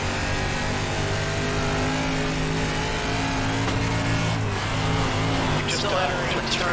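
A DIRTcar Limited Late Model race car runs on a slick dirt oval, its engine a continuous loud drone with shifting revs as it works through the turns, with no voices.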